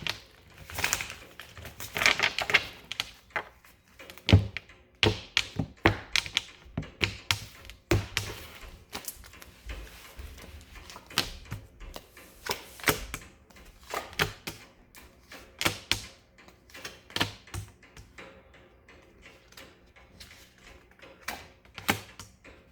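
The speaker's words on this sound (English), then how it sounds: "A few shuffles." Tarot cards being shuffled by hand, a run of crisp, irregular riffling taps and flicks close by, fairly quiet, with no talking.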